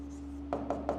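A pen writing out an algebra equation on paper gives three quick, faint scratchy strokes in a row over a steady low background hum.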